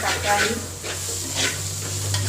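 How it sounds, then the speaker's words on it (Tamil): Tomato, ginger and garlic sauté in a pan for a chicken curry, giving a soft continuous sizzle broken by a few gentle stirring scrapes close by, with no talking. "தக்காளி இஞ்சி பூண்டு எல்லாம் நல்லா வதங்கி கிடக்குது"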